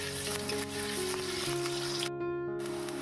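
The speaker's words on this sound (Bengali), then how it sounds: "যাতে আলুগুলো ভালোভাবে ভাজা হয়ে যায়। একটু লালচে করে ভেজে নেব।" Potatoes frying in a pan for a vegetarian cabbage ghonto, a dense, continuous sizzle close up, with a brief clatter of stirring.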